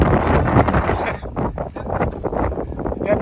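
Strong desert wind in the Mojave buffets the microphone with steady roaring gusts, broadband and rushing throughout, near and loud with no clear talk on top.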